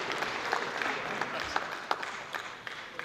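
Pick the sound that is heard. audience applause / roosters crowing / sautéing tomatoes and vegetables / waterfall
audience applause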